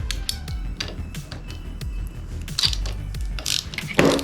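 Ratchet loosening screws on a Yamaha FZ-07/MT-07 motorcycle being rebuilt after a crash, heard as a series of quick clicking strokes at close range with some knocks, moderately loud and without talk.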